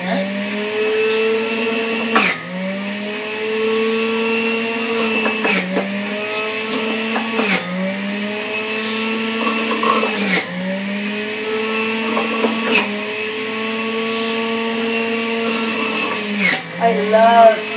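Whole cucumber being fed through a juicer, a steady high-pitched motor whine with a few sharp dips and bumps as the pieces are pushed down, and a voice speaking alongside it.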